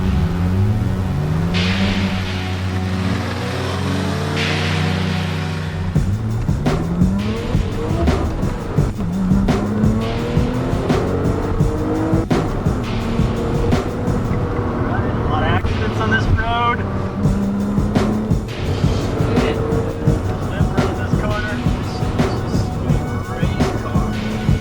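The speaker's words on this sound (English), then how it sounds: "We came down here and ripped around in this turbo Porsche" A turbo Porsche on a fast test drive gives a sustained engine roar that rises and falls as it accelerates, with wind rushing past the microphone and voices talking over it throughout.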